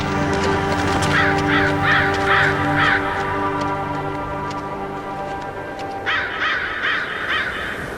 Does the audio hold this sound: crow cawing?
yes